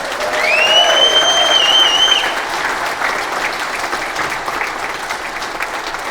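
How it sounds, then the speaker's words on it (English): A crowd applauds steadily in a large room at an independent candidate's election event in Limerick, clapping dense and loud at first then easing slightly, with a few whistles early on. "my last thank you, which I want a big cheer of applause for"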